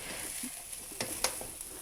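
Bell peppers and pre-boiled peas sauté in a pan for spring roll filling, a soft steady sizzle with a few sharp stirring scrapes and clicks, close and fairly quiet.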